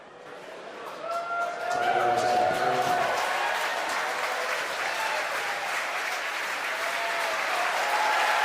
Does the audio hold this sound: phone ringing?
no